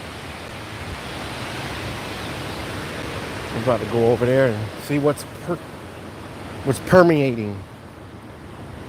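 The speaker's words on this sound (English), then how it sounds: "that's the Genesee River." The Genesee River flows as a steady broadband rush that continues throughout, with someone talking over it in two short bursts partway through.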